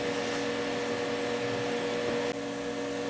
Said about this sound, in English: I'm going to go ahead and weld the rest of these tines out